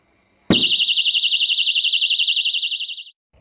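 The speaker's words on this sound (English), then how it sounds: "will set off an audible alarm that will scare away the burglar" A loud electronic home security alarm blares steadily for about two and a half seconds with a rapid warbling pulse, then cuts off abruptly.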